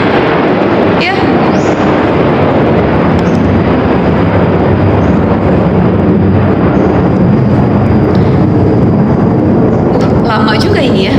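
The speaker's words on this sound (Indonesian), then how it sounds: "lama juga ini ya suara pesawat ya" An airplane passing overhead, a loud, sustained broadband roar that fills the whole stretch with a steady rushing drone, with faint talk beneath.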